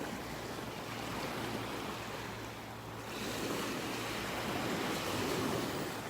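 Small ocean waves lap at a beach in North Naples, Florida, making a steady, close wash of water with some wind noise and no voices.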